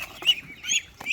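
Rooster calls at a poultry farm: three short, bright crowing or clucking bursts in quick succession, fairly close and moderately loud, with no talking.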